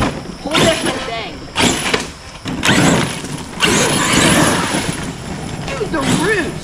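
A stunt truck on a beach revs hard in repeated bursts, its engine roaring up and falling back several times, loud and close, while someone talks over the noise.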